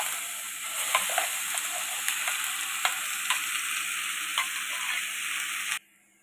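Ground coconut paste fries and sizzles in hot ghee while being stirred, a steady loud crackling hiss with scattered scraping clicks from the spoon, for making coconut sandesh, until it cuts off abruptly near the end.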